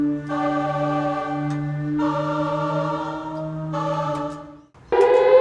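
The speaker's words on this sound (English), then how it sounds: "we're running a keyboard, and we're also running a gospel choir that's doing little shouty O's." A keyboard holds sustained chords while a gospel choir sings short shouty "O" vowels, layered into a dense, steady mix that cuts off briefly before a brighter burst at the end.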